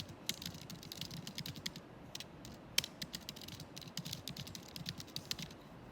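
Fingers tap steadily across a computer keyboard during a writing session, a close, continuous run of crisp key clicks with small pauses and one sharper stroke midway.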